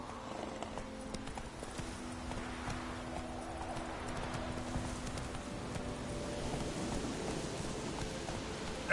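Hooves of Roach, the horse in the video game Witcher 3, clip-clopping in a steady trotting rhythm, close and continuous, with a soft rain-like hiss in the background.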